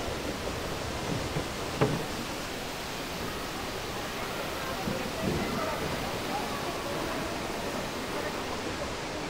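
An indoor waterfall in Bengaluru airport's Terminal 2 pours in a steady, even rush of falling water, broad and constant, with a couple of faint knocks rising briefly above the flow.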